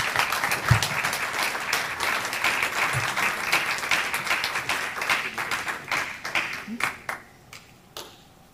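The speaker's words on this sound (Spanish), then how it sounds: "Demos un aplauso a Amparo Graciani García." A crowd applauds Amparo Graciani García at a talk, with loud sustained clapping from many hands that thins out near the end into a few scattered last claps.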